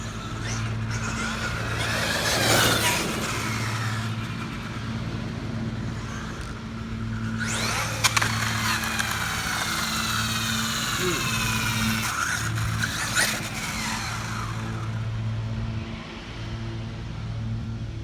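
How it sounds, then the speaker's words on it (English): A heavy Traxxas XMAXX 8S RC truck's electric motor whines as it accelerates to top speed, with rising high-pitched sweeps and tire noise in passes, fairly loud over a constant low hum. "this truck is heavy, so this motor just pulls all the way to the top end"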